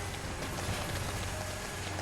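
A steady, dense mechanical whir with a constant low hum and faint clatter running without pause, donut-making machines running in the video game Fallout 4.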